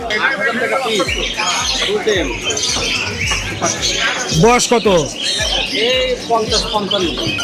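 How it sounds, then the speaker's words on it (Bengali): Yellow and mixed-colour budgerigars, adults and tiny chicks, chirp and squawk in short bursts throughout, close by, while people talk over them. "বাজরিগার পাখি দেখতে পাচ্ছি"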